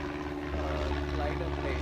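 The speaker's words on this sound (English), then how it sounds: "Flying a plane." A propeller airplane flies overhead near a beach on the coast, a steady low engine drone that holds through the whole moment, fairly close and even in loudness.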